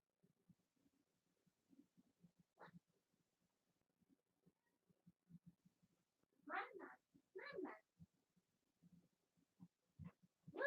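A cat meows several times, with faint scattered mews and two louder, close drawn-out meows in the middle, over a very quiet room with low thumping noises.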